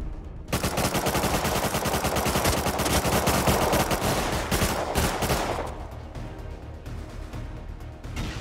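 Loud, rapid automatic turret fire in Rust Console Edition rattles continuously for about five seconds, then trails off into scattered echoing shots.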